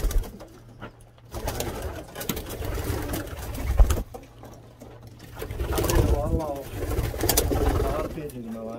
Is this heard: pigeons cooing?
yes